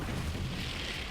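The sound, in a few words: explosion in the video game Borderlands 3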